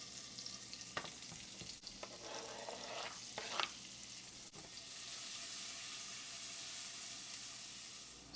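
Bacon renders its grease in a pan, a steady soft sizzle and frying hiss. A few stirring clicks and scrapes come early, then an even, quiet crackle carries on alone.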